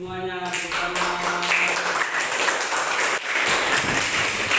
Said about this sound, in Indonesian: Tepuk tangan dulu semuanya bersama.